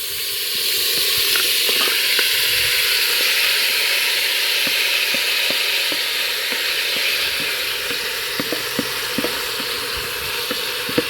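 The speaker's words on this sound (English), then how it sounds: "So guys, the cowfoot is going in the pot now." Cowfoot dropped into a hot pot sets off a loud, steady sizzle and hiss that lasts throughout, with faint clinks of stirring and no talk.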